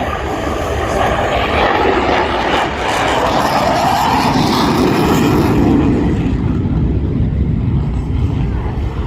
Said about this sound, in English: point the aircraft in a nearly vertical attitude, executing a maximum performance